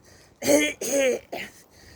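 A few harsh, throaty coughs come in quick succession, close by, with short pauses between them.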